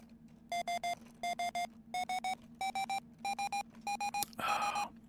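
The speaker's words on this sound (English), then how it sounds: "I wouldn't mind the prox alarms" Proximity alarm in the Ostranauts space game, a loud electronic beep repeating in six evenly spaced triple bursts over a steady low hum, ending in a harsher burst of noise.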